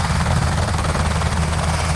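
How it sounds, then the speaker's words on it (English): A helicopter flies overhead in Los Angeles, its rotor thudding in a dense, continuous, loud drone with no pause or voices. "listening to a helicopter overhead"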